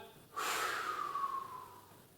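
One long, deep exhale during a breathing exercise, a soft breathy rush that starts abruptly and tapers off over about two seconds, close to the mic and fairly quiet.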